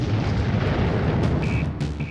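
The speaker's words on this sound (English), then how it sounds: "A massive explosion rocked the plant." A massive explosion at a chemical plant, its fireball visible from miles away, comes through as a loud, continuous deep roar and rumble lasting a couple of seconds with no voices.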